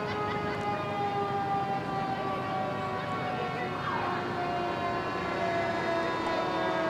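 A fire engine siren wails steadily at a distance during a fair parade, held tones sliding slowly over constant background noise.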